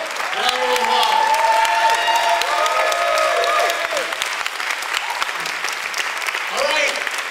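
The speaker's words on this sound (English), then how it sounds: "let's give her a real round of applause." A crowd at an arts-center party night bursts into loud, sustained applause for a speaker, with whistles and cheers mixed in and voices talking through the clapping.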